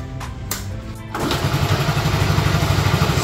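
A restored Honda Super Cub C70 motorcycle is kicked or clicked over, with a few sharp mechanical clicks and a brief crank before the small engine catches and settles into a steady, close, puttering idle.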